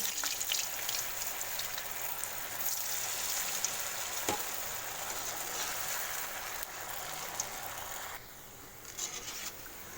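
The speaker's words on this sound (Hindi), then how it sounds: "ये लीजिए, अब इसको डीप फ्राई कर लेंगे हम" Potato balls deep frying in oil, a constant crackling bubbling hiss with scattered pops, fairly close and steady throughout with a slight drop toward the end.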